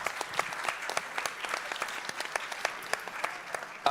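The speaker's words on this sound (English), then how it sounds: "Would you please give a big applause to the judges?" Conference audience at a game industry event applauding the judges: scattered, sparse clapping with distinct individual hand claps, moderately distant and fairly quiet, continuing evenly throughout.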